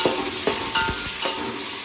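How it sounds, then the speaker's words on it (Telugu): Crushed garlic and green chillies are stirred into hot tempering oil for a dal rasam, with a steady sizzle broken by a few sharp scraping strokes of a spoon in the pan, close and fairly loud, and no talk. "పోపులో వెల్లుల్లిపాయలు వేస్తున్నాను, దంచి పెట్టుకున్న వెల్లుల్లిపాయలు, దంచి పెట్టుకున్న పచ్చిమిర్చి వేసుకుని ఒకసారి అయితే కలిపేసుకోవాలి"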